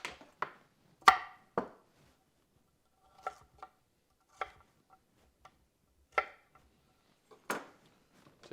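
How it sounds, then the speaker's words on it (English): A carrot being peeled in a home kitchen, sparse sharp scraping strokes at an irregular pace, close and distinct against near silence. "Peel up that carrot."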